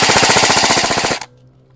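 A KA M4 Striker airsoft rifle fires on full auto, a loud close burst of rapid, evenly spaced shots lasting about a second before cutting off into near silence.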